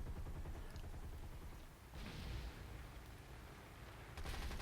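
Front-mounted machine guns on a biplane in War Thunder fire in rapid sustained bursts, dense rattling volleys with short pauses between them, heard close over a constant engine drone.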